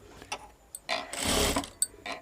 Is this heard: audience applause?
no